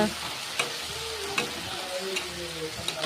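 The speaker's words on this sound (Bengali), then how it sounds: "লবণ সব যখন ভাজছি। তারপরে মশলা দিলাম।" A spice paste of ginger, garlic, onion and cumin, with tomato, turmeric and salt, fries in a pan with a loud, close, continuous sizzle and periodic scraping stir strokes.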